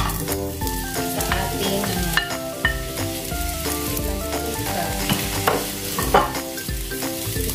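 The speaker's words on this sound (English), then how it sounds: "I-fry muna natin yung ating onion" Onion frying in oil in a pan for a beef casserole, a steady sizzle with stirring clatter and utensil knocks throughout, under a brief bit of talk.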